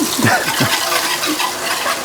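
Dishes being washed under running water: a steady close splash and rush of tap water with light clinks and sloshing of dishware, continuous and fairly loud.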